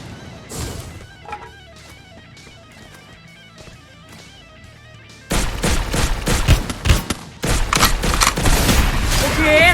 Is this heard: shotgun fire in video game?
yes